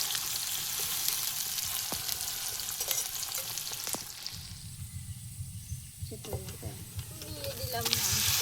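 Onion, garlic and green chili sizzle with cumin in hot oil, a steady frying hiss with scattered stirring scrapes and clinks, briefly quieter midway, close and fairly loud throughout.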